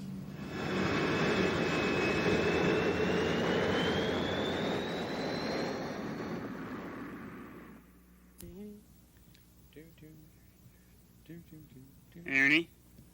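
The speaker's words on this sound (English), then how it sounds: "Aeroplane starts with A." Aeroplane sound from a children's television show, a loud, steady engine roar with a rising whine that fades out after several seconds, followed by quieter cartoonish effects and a short burst near the end.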